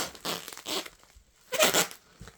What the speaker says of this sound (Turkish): Şöyle sıkıca saralım